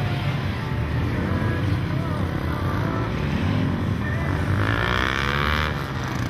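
A Honda Grom with its stock muffler runs a gymkhana course, giving a continuous buzzing engine drone that rises and falls with throttle, fairly close and unbroken throughout.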